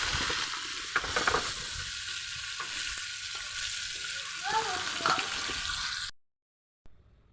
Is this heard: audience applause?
no